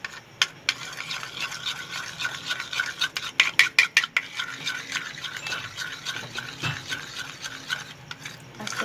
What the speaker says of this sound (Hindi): मिक्स करके अब हम इसको अच्छी तरह से हिला लेते हैं।